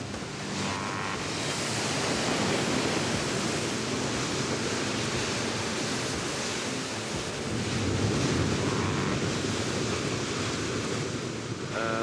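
Atlantic surf breaking against the black lava coast of the Azores: a dense, continuous roar of waves with wind rushing across the microphone, loud and close, with no voices.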